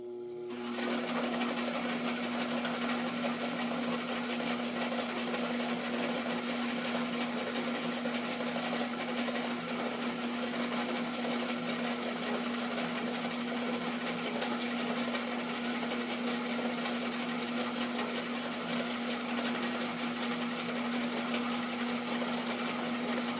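A Zydervan substrate counting system feeder runs continuously, a steady mechanical whir with a strong sustained hum starting abruptly and holding at an even level throughout, with no talking.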